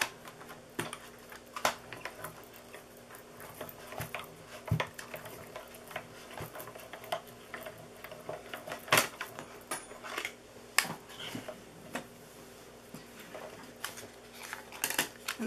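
Paper pushed through a die-cutting embossing machine for a fall pumpkin treat box, giving irregular clicks, taps and cranking rattles over about fifteen seconds at close range.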